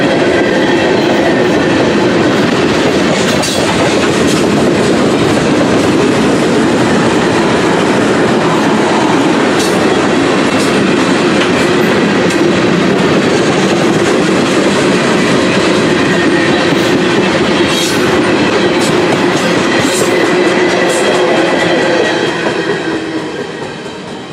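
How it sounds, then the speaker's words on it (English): A PSR freight train rolls past continuously for the whole stretch, loud and close, with steady wheel rumble and clickety-clack over the rails and occasional faint squeals. "After the PSR train got by"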